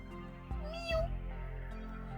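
A cat gives one clear meow near the middle, close and fairly loud over a quiet steady background, with no voices.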